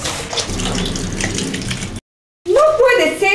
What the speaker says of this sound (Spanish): lavando la ropa de mis muchachos